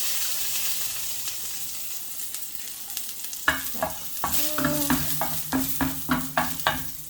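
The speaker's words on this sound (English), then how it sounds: "on this pot here, I'm just gonna add a little bit of olive oil, and I'm gonna add my garlic in there" A little garlic sizzles in olive oil in a pot for a vegetable stir fry. A soft hiss comes first, then a run of sharp stirring scrapes and crackles, close and loud, with no voices.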